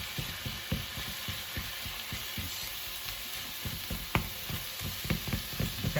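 Salted minced meat for samosa filling browns in a pan with a dense, close sizzle. Quick spatula scrapes and taps repeat throughout, and no one speaks.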